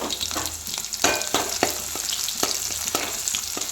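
A small onion frying in oil with spices, a steady sizzle punctuated by regular spatula scrapes and taps against the pan, close and fairly loud.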